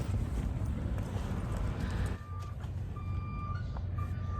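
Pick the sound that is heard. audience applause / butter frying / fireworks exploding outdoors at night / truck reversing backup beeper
truck reversing backup beeper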